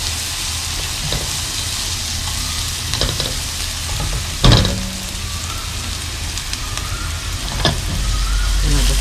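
Rice vermicelli and pork stir-frying in a hot pan, a steady loud sizzle with scraping stir strokes and one sharper clatter partway through, continuous throughout.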